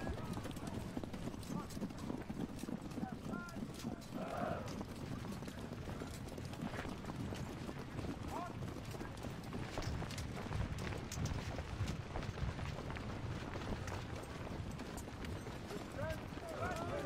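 Cavalry horses galloping in Ultimate General: Civil War, a dense continuous patter of hoofbeats over battle ambience, with someone talking over it.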